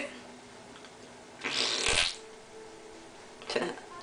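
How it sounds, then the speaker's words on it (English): Short flatulent burst of noise near the middle, loud and close, followed by a fainter, briefer repeat a couple of seconds later over quiet room background. "That made a farting noise."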